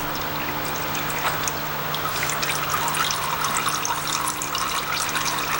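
Fluid drains from a 1947 John Deere B tractor in a steady splashing trickle, close and continuous throughout with no talk.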